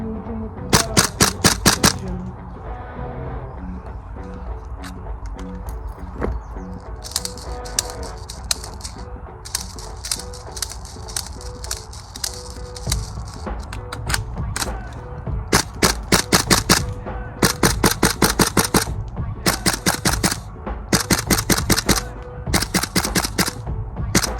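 A Tokyo Marui MWS M4A1 CQBR airsoft rifle fires in rapid bursts and strings of sharp cracking shots, loud and close, with short pauses between bursts over roughly twenty-four seconds.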